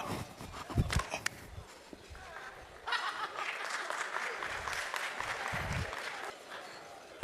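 An audience applauds after a magic trick at an illusionist's performance, a few scattered claps at first, then a sustained burst of clapping, moderately distant, with some laughter mixed in.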